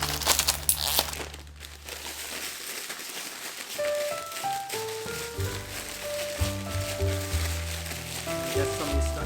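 Dough pieces being shaken with sugar inside a bag for monkey bread give a steady crinkling, rustling plastic sound with soft rattling, fairly close and continuous, with no talking.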